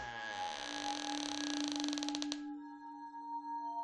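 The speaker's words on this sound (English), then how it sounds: "Sound of the door opening." A door creaks open in the horror video game Summer Nightmare, a long, close, drawn-out squeal that rises into rapid ratcheting clicks before cutting off, leaving a faint lingering hum.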